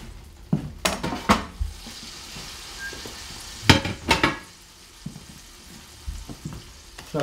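A rib of beef browning in a hot frying pan: a soft continuous sizzle under sharp clanks and scrapes of the pan and utensils, coming in short clusters of knocks with quieter gaps between.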